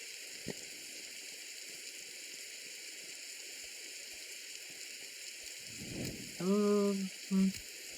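Soft, continuous rain hiss in a Roblox survival game set in a forest, 99 Nights in the Forest, runs throughout, with a few short tonal game beeps near the end.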